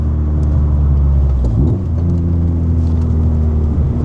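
A Metro hatchback swapped with a naturally aspirated Lotus K-series engine rumbles loudly from its exhaust, holding a steady low drone before dipping briefly and settling back into a throaty idle-like burble, close and alone.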